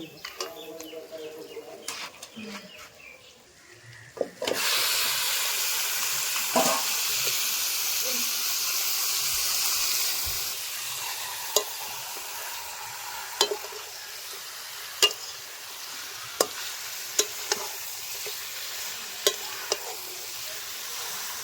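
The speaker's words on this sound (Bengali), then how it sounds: "একসাথে কুচিয়ে নিচ্ছি খুন্তি দিয়ে" A spatula scrapes and stirs spiced chicken being fried in a pan, with steady sizzling and hissing and sharp periodic clacks of metal on the pan.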